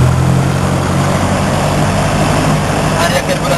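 A light propeller aircraft's piston engine runs up to 2000 rpm during a pre-flight check, a loud, steady droning roar close by with a voice speaking over it.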